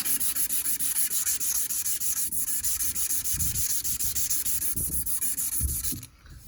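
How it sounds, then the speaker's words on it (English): Sandpaper is rubbed by hand over a wooden knife handle in fast, even back-and-forth strokes. The scraping is close and continuous, then stops abruptly at the end. "I'm gonna actually tear a smaller piece and grind right here, or sand right there."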